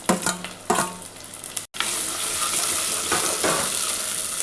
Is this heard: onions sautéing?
yes